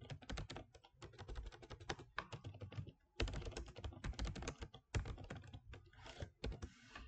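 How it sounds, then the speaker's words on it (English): Keys clatter in rapid irregular bursts as text is typed on a computer keyboard while designing a certificate in Microsoft Word 2016, with two short pauses between runs of typing. "I will now select and type my text"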